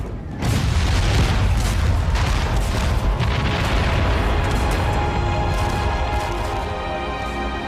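Heavy, rumbling booms of British cannon fire bombarding New York's defenses in 1776 roll on continuously, a sustained barrage, loud and dense with no pauses between blasts.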